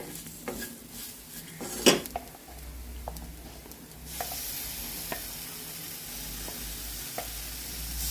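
A spoon scrapes and clinks in a sizzling pan while meal maker chunks are stirred into a gongura curry, giving quiet irregular stirring knocks over a soft frying hiss.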